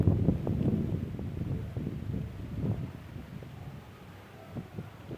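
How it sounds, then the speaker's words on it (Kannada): Strong, cyclone-like wind blows in a village during light rain, gusting against the microphone as a low, uneven rumble that swells and fades. "ಅದ್ರ ಜೊತೆಗೆ ಗಾಳಿ ಜಾಸ್ತಿ ಬೀಸ್ತಾ ಇದೆ, ಹೆವಿ ಗಾಳಿ ನೋಡಿ, ಎಷ್ಟೊಂದು ಗಾಳಿ ಬೀಸ್ತಾ ಇದೆ"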